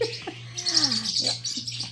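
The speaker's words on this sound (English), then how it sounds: "apparently I've upset my parrotlets" Pet parrotlets chirp and tweet in a short indoor burst: a few bright high calls and a descending squeak, fairly close and loud over a steady low hum.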